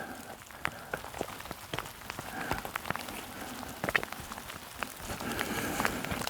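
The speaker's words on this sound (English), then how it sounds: "It's not very heavy rain, but it's enough to just slowly and surely get you soaked." Light mountain rain patters steadily with scattered drops ticking nearby, a soft continuous wash with no talking.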